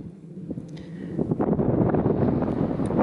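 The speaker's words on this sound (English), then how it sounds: "As usual, it's always windy." Gusty wind on a Dartmoor tor buffeting the microphone, rising into a steady low roar after a quieter start, with no voices.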